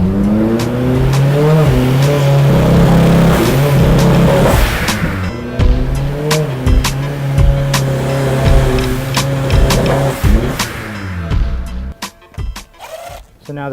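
A misfiring car engine revs hard and loud with its exhaust restrictor removed, rising and falling in choppy bursts with sharp pops, while someone talks over it nearby.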